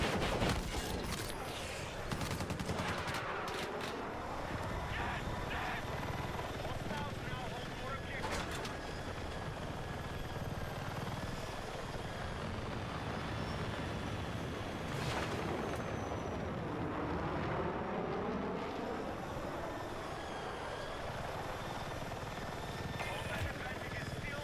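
A big helicopter in a video game, its rotor and engine roar loud and steady throughout, with gunfire bursts and other game noise mixed in and voices talking over it.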